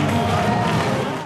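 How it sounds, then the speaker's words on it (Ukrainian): A packed hall erupts in an ovation for a singer at his concert in a liberated ATO zone, loud, dense and continuous crowd noise filling the whole moment. "Зал вибухає оваціями."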